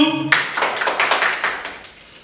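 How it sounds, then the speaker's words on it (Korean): An audience claps at a MONSTA X fan event, a dense burst of applause that starts abruptly, stays loud and lively for about two seconds, then thins and fades. "박수!"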